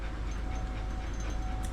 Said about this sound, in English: you can't breathe in my face too much while I eat